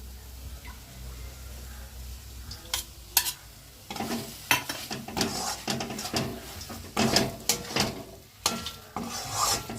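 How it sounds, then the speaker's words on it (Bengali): Prawns frying in a pan with sugar for a Bengali-style kochubata chingri, a constant close sizzle broken by repeated scraping and clattering stirs of a utensil against the pan. "এবার আমি এর মধ্যে চিংড়িগুলো দিয়ে দিচ্ছি।"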